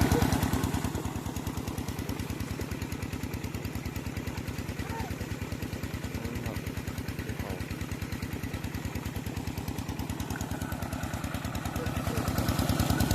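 A small single-cylinder walking tractor engine driving a water pump chugs steadily and loudly throughout, a fast regular thumping with some clatter, running continuously without pause.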